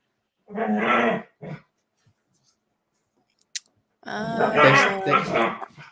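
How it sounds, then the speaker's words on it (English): Dogs bark and growl in short bursts, a brief yelp, a long quiet gap, then a longer stretch of close, loud vocalising. "today you get the puppy dogs talking"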